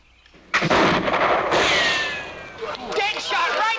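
A rifle fires at a target during a frontier-era turkey shooting contest, one sharp loud crack followed by a long echoing tail, then a crowd's voices and reactions.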